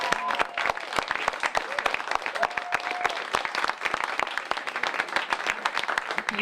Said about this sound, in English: Let's give our host tonight the biggest round of applause.